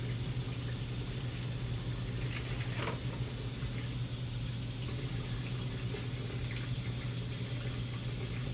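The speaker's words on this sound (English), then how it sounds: "I need to wash it under water real good" Tap water runs steadily into a sink while husked corn is washed beneath it, a constant faint splashing hiss over a low steady hum, with occasional soft knocks and no talking.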